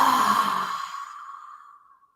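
One forceful breath is pushed out in a long, airy exhale. It starts loud, then thins out and fades to silence over about two seconds.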